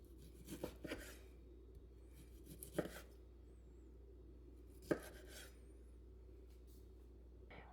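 A knife slices through an air-fried Cajun pork chop, giving a few soft, close cuts spaced out with quiet pauses, each ending in a light tap against the board.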